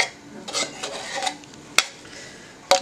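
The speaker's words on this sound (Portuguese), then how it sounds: "Aqui eu vou raspar toda a minha lata." A spoon scrapes out a can of condensed milk in a series of soft rasping strokes, close up, with two sharp metallic clinks of spoon against can.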